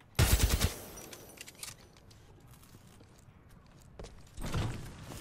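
Gunfire rings out in Titanfall 2: a loud, rapid burst at the start, a quieter stretch of clicks and movement, then a second burst near the end.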